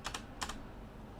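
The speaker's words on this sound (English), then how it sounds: "Then I'm going to start to type my command" A few soft keystrokes tap on a computer keyboard as a command is entered, quiet and close, in two small clusters of clicks.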